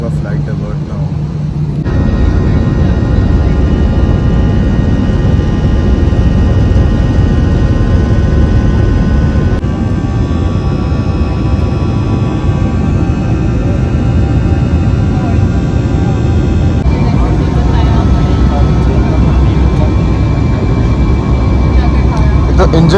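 Steady loud roar of an Airblue airliner's jet engines heard from a cabin seat directly over the engine, a continuous dense drone with sustained tonal hum, shifting slightly in pitch partway through, close and unbroken.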